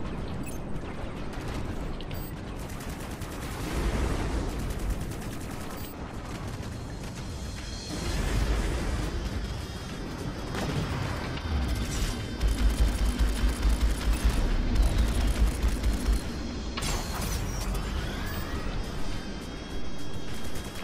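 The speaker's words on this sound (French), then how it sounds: "Je sais bien que j'entends quand on s'entend des coups de feu." Sci-fi gunfire from the space combat game Strike Suit Zero crackles in repeated bursts and booms, loud and continuous with mechanical whirs, with almost no talk.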